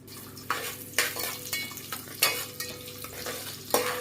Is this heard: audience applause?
no